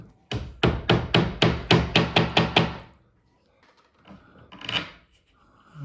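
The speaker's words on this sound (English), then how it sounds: "Hammer it in." A plastic hollow wall anchor is hammered into a wall with about nine quick, evenly spaced sharp blows, close and loud, followed by a short quiet stretch and light handling noise.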